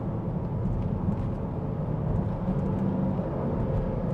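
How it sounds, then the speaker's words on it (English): Deep, steady engine rumble from a 2025 Dodge Durango during a rev-matched downshift, heard from inside the cabin as a continuous low drone with a slight swell in revs. "You can see what the rev match downshift sound like."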